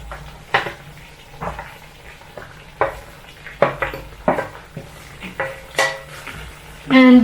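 Pork tipped into a pan already holding zucchini and its juices, then mixed, giving a run of close clattering utensil-on-pan knocks and scrapes spread over several seconds, with a faint sizzle underneath.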